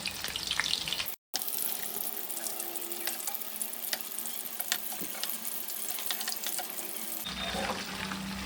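Chicken cheese balls deep fry in hot oil with a dense, continuous bubbling sizzle, briefly broken by a short gap near the start and shifting in tone near the end.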